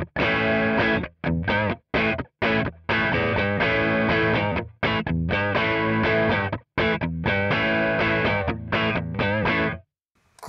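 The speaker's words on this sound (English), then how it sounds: "it's kind of classic tube screamer sort of sound" Electric guitar run through a Tube Screamer-style overdrive plugin, playing loud, gritty, distorted chords and riffs in choppy rhythmic bursts with short gaps, ending in a held chord that fades.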